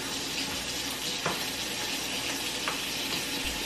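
Sausage fries in a pan with no butter, giving off a steady, bright crackling sizzle that fills the clip, with a couple of brief clinks from stirring and no voices.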